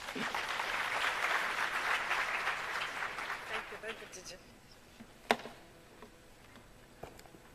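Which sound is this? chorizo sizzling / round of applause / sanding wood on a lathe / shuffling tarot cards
round of applause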